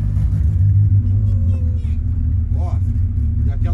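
A Volkswagen Parati GL with a turbo engine rumbles steadily nearby, its low droning note rising and falling slightly, while people talk over it.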